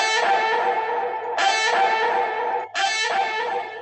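Reverb-soaked vocal 'hey' shouts treated with a sweeping phaser, heard as a few sustained, loud bursts with a brief dropout between them, from a track.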